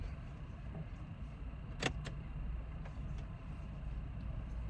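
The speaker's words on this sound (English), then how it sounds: "Almost forgot to lock my door." Two quick, sharp clicks of a Kia Sorento door lock sound inside the quiet car over a low background hum.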